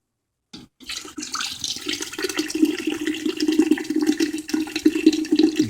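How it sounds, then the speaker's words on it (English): A tall boy of beer poured into a 22-quart pot for smoked brisket chili, with a sharp can crack followed by a steady, splashing gurgle of liquid filling the pot close by. "in a 22-quart pot, I'm going to add 1 tall boy of beer"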